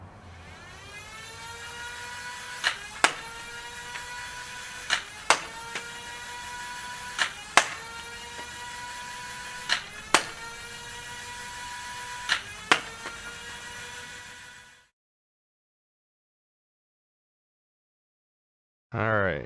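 A Dart Zone Maxim Pro blaster fires heavy Saber T-darts, a steady motor whine broken by about nine sharp, evenly spaced shots, then abrupt silence before a short final burst.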